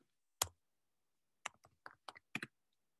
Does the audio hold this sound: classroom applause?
no